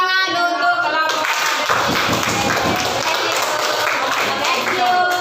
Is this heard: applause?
yes